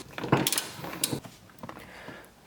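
A ratchet turning a 16mm socket on a car seat bolt, with a few close, uneven clicking and creaking bursts that fade after the first second, no talk.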